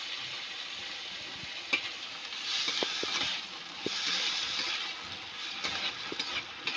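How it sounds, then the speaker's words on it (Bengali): Boiled matar dal frying in oil with black cumin, a steady close sizzle with soft crackle that swells twice, scattered by light clicks and taps of stirring. "প্রথমে আমি এই সিদ্ধ করে রাখা মটর ডালটা ভেজে নেব।"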